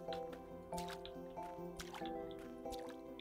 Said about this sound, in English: I get the impression you're just meant to water the little plant.